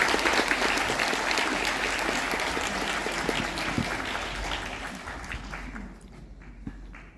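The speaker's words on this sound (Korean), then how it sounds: "큰 박수로 모시겠습니다." Loud, sustained applause from an indoor audience at a city hall lecture in Bucheon, welcoming a former mayor and lawmaker to the stage, with dense clapping throughout that thins slightly near the end.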